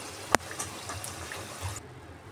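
Badusha sweets deep frying in hot oil give a soft, faint bubbling sizzle, with one sharp click near the start.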